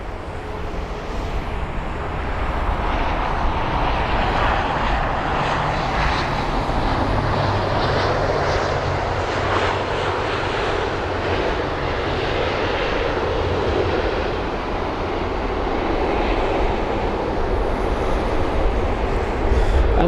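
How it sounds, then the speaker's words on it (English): A Loganair ATR 72-600 turboprop at London Heathrow, a loud, continuous engine roar and broadband rumble that holds steady for about twenty seconds, close and without speech. "a very loud aircraft for one, but also the Logan Air ATR 72-600 from the Isle of Man"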